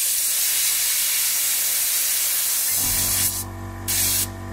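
An airbrush sprays Vallejo paint thinned with X20A thinner, a loud steady hiss of air close by that gives way to a deeper humming tone with brief pauses near the end.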